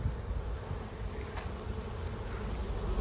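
Honeybees crowd the entrance of a newly set up hive, a continuous soft buzzing hum close by with occasional individual bees passing nearer, no voices.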